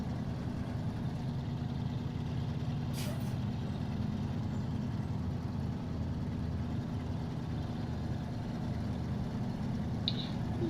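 An old-school US truck engine in the video game Snowrunner, a steady low idling rumble holding evenly throughout, with a brief hiss near the start and no talking.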